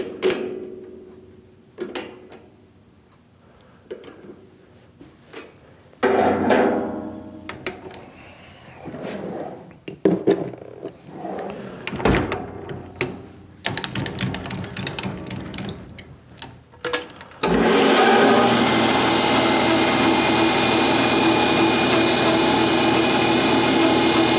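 A metal split-cylinder edge finder gets its edge chamfered in a workshop: scattered scraping and clicking tool contacts at first, then a loud steady machining whir over the final stretch, with no talk.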